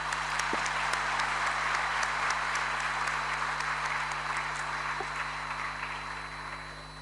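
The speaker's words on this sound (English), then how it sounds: "let's give all the award winners a huge round of applause" Steady applause from an audience honoring award winners at a public sector awards ceremony, a dense even wash of clapping that holds for several seconds before gently thinning toward the end.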